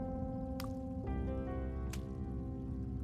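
Water dripping in a dark tunnel in the Goosebumps video game: two sharp, isolated drips about a second apart ring out clearly over a steady low hum.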